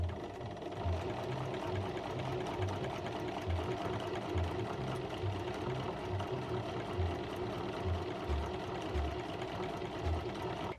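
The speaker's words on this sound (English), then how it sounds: "This isn't my sewing machine, so it's really hard to use" A borrowed sewing machine, started with a button rather than a foot pedal, runs nonstop with a steady mechanical whir and a rhythmic low thumping of the needle, close and fairly loud, with no voices over it.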